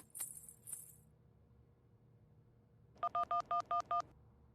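Six quick telephone keypad tones beep in even succession after a couple of faint clicks, close and clear against a quiet background.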